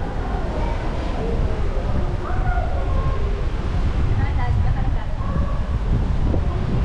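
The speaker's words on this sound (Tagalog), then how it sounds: "Sarap ng hangin." Strong wind buffets the microphone in a constant low roar outside Ocean Park in Manila, Philippines, with faint voices underneath.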